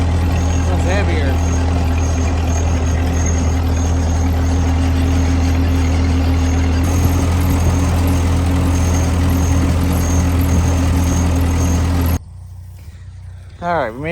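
An old Ford 8N tractor pulls a hay baler uphill, its engine droning loud and steady with a constant low hum for about twelve seconds before cutting away to near quiet with a faint rustle and a brief voice.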